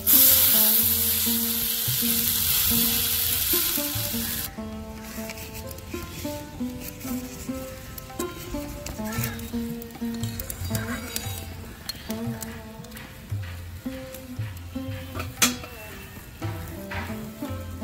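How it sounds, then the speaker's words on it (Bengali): Raw mango pieces fry in a pan with a steady, close sizzle, and a spatula stirs and scrapes now and then. After a louder hiss at the start, the crackle settles into a constant patter. "আমগুলো বেশি ভাজবো না, হালকা হালকা থাকবে।"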